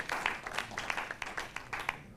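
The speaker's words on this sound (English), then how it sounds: "Let's give Dr. Boswell another round of applause." Scattered applause from a small audience at a medical webcast about a prostate cancer treatment; individual claps stand out as sharp, uneven bursts, fairly faint and spread thinly through the moment.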